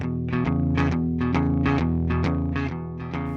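Electric guitar through a Yamaha THR10C amp with tape echo and reverb, playing a steady run of distinct picked notes at an even pace, moderately loud with a lingering echoed tail.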